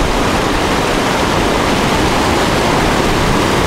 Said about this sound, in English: that was a wave.